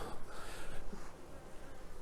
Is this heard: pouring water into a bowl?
no